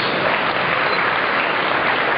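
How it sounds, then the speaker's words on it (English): Pageant audience at the Miss Singapore World 2011 grand finals claps in a steady, dense round of applause, loud and continuous throughout with no voices over it. "Big round of applause."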